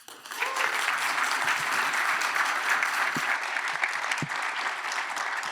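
Audience applause welcoming the mayors of Calgary and Edmonton at a civic forum, steady dense clapping from a large crowd that starts quickly and holds at full strength throughout.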